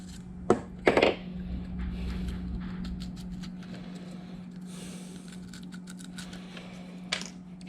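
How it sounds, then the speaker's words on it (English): A razor blade trims melted plastic excess off a homemade kayak rod holder cooler, giving a few sharp scraping cuts near the start and one near the end over a steady low hum. "I'll take a razor blade and cut all this melted excess off"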